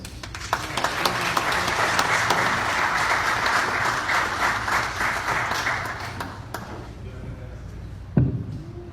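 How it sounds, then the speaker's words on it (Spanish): Audience applause at a debate event, sustained clapping from many people for several seconds that fades out near the end, followed by a single thump. "Sin más, un aplauso para ellos todos."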